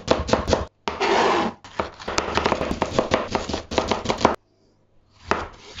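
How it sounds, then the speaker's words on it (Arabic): Two bell peppers chopped into small pieces with a knife on a board, giving rapid, close bursts of crisp chopping strokes broken by short pauses, with no talk. "هجيب حبتين فلفل رومي أو فلفل كوبي زي ما أنا بقول عليه، وأبدأ أقطعه حتت"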